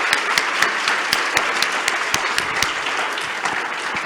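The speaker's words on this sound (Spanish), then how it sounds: "Un aplauso para el embajador que se tomó el tiempo en venir." Audience applause for the ambassador at the DMI Decididas Summit 2023, a dense steady wash of many hands clapping at an even level throughout, with sharper individual claps standing out and no talking over it.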